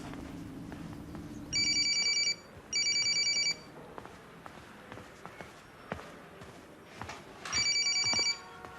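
A hotel room telephone rings in three separate bursts of a bright electronic trill, each lasting about a second, with quiet room noise and a few soft thumps between them.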